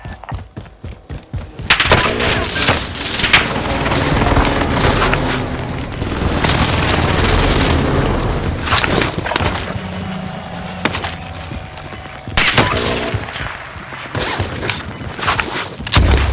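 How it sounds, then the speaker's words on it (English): Precision airstrike explosions in Call of Duty: Warzone on Rebirth Island: loud, dense booms and gunfire-like blasts roll on almost continuously, with sharp repeated bursts standing out near the end. "Enemy precision airstrike."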